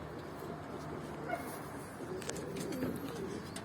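Pigeons coo faintly amid a steady outdoor background while a flock of young birds flies high overhead, with occasional soft bird calls and no speech.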